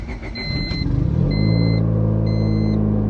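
A Honda car engine cranks and starts up, catching into a steady low idle rumble up close, with faint high electronic beeps above it.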